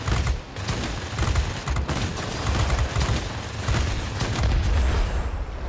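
Rapid bursts of gunfire and booming impacts batter a P-39N-1 fighter plane in an aerial combat game, a dense, loud, continuous barrage with no voices.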